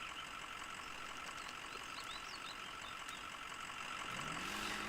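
A Ford Super Duty 6.7L diesel truck engine in the Spintires off-road game drones steadily and close, with a rising, straining pitch near the end.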